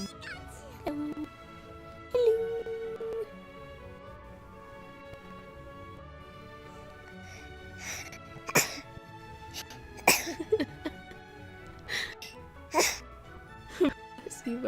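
A short, sharp sneeze bursts out near the microphone amid quiet speech during a Let's Go Pikachu game session, followed by a few similar abrupt bursts and soft meow-like vocal sounds.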